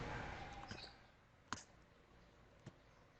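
Computer mouse clicks while working in a sales order management program, two sharp isolated clicks, close and clear, after a fading faint rustle.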